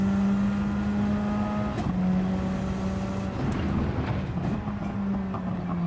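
Porsche GR3 race car in a racing video game at Monza, giving a steady droning engine tone with a high whine, interrupted by a brief shift and then continuing near and fairly loud.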